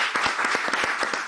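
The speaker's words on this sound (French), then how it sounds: "Applaudissez d'abord pour lui." A brief burst of audience applause for a guest coach at a live talk, with many hands clapping steadily and fairly close throughout.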